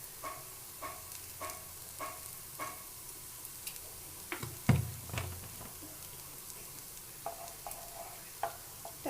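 Mustard oil heats in a pan while a spoon stirs it now and then, leaving a faint sizzle under a run of soft, regular scraping strokes and one louder knock near the middle, close by with no talk.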